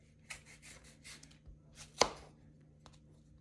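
A knife slices through firm green tomatoes on a cutting board, giving a few soft, scattered cuts and then one sharp, loud chop, close by with no talking.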